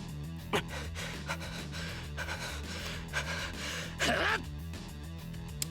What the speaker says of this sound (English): Gotta respect Shiro's voice actor for the heavy breathing.